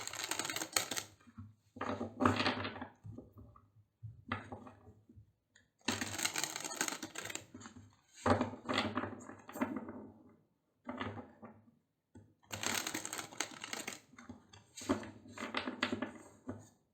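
Tarot cards being shuffled, recurring bursts of rapid clicking, flapping card sounds separated by short pauses, close and moderately loud, with no talking.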